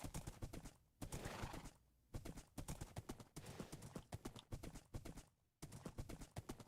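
A pet horse in Minecraft clip-clops along in steady bursts of hoof taps, broken by short pauses, with no talking over it.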